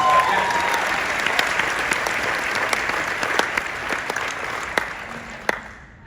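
Audience applause at a WealthCon business conference session: a dense, sustained crowd clapping of moderate loudness, thinning out toward the end, with a few sharper individual claps standing out.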